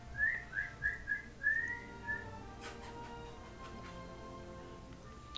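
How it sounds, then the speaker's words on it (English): A person whistles a short series of rising chirpy notes, fairly faint and close, then stops, leaving a quiet background hum. "Stop whistling at me, I'm not a dog."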